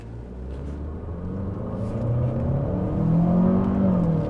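A Chery Omoda 5 with a 1.5-litre four-cylinder turbo engine accelerates hard on a straight road, its engine rumble and drone rising steadily in pitch and loudness from inside the cabin, with no voices.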